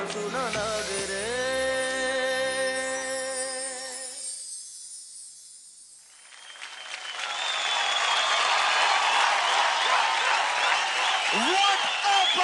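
Audience applause and cheering fill the second half after a dance performance on the Zee TV show DID Doubles, swelling loud and dense following a sung passage and a brief quiet gap.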